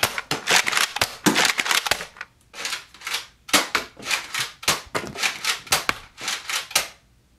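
A Nerf Roughcut blaster firing foam darts, rapid sharp clacking shots in quick bursts, close and loud, with short pauses between volleys and no talk.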